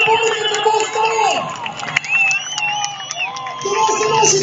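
A crowd at a night drift event in a mall cheers and shouts, lively whoops and babble rising and falling over a few seconds, with engine whine weaving through the noise.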